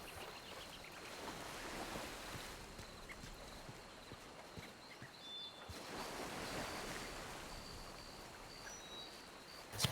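Ocean waves roll onto the shore of Guarma in a video game, a faint, steady surf that swells and recedes with no talking.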